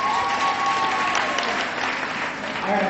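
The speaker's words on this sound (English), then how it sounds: "Can I have a round of applause for her," A concert audience at a Mother's Day show claps steadily for a participant, a continuous wash of applause with faint voices and a sustained tone mixed underneath.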